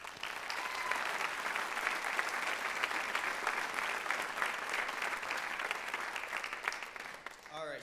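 A crowd applauds steadily at a high school athletics special recognition night, a dense even patter of many hands lasting several seconds before fading out near the end, with faint voices mixed in.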